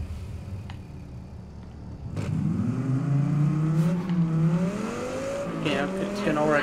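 A car engine in the racing game Test Drive Unlimited Solar Crown, upgraded, revving up loudly from about two seconds in and climbing steadily in pitch, with the engine note rising again near the end.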